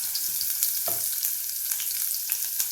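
Chopped onion sizzles in hot oil seasoned with asafoetida for a field beans green curry, a steady close frying hiss with a brief louder crackle as it hits the pan and light stirring clinks, no voices.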